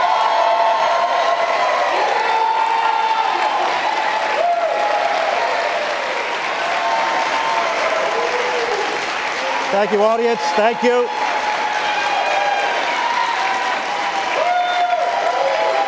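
A live audience at the 2018 Rhode Island governor's debate applauds steadily and loudly, with a moderator speaking over the dense clapping as it carries on and slowly fades.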